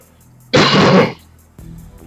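One harsh, drawn-out cough or throat clearing, close and loud, followed by a quieter throaty rumble.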